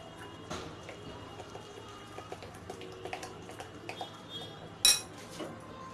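A metal spoon stirs a thick paneer tikka marinade of gram flour, ginger-garlic paste and mustard oil in a bowl, giving faint scattered scrapes and taps and one sharp clink near the end, close and quiet.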